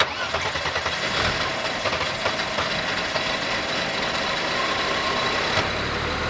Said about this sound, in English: I had to crank the heck out of it to get it going